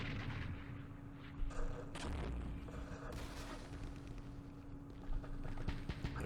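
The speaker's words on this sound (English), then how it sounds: "Artillery is not effective." Artillery fire in the Vietnam war game Campaign Series Vietnam, at the Battle of Hue: muffled distant booms and rumbling impacts recur through a steady noisy battle backdrop, with sharper thuds near the start and end.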